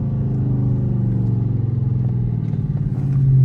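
Dodge Charger engine downshifting into first gear, a steady low rumble from inside the car that holds, dips and then swells again near the end, with no voices.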